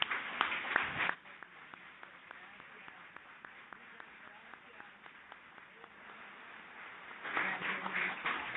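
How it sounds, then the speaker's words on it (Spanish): Bursts of audience applause for a teacher at a panel on children's right to quality education, clapping at the start and again near the end with a voice speaking through the quieter middle. "Y es bien justo en este momento pedirles un fuerte aplauso para mi maestra."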